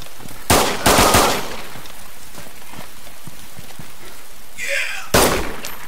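Sniper gunfire in the DayZ video game: a few sharp, loud broadband cracks, two close together near the start and another near the end, with faint background noise between them.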